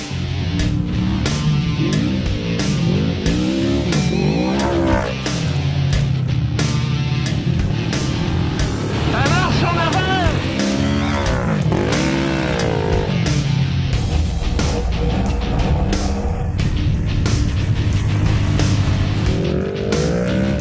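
A Polaris RZR 900 stage 2 side-by-side accelerates hard around a sand pit, its engine roaring loud and close in rising and falling revs for the whole stretch.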